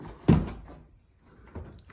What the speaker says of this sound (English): All right, opening the door.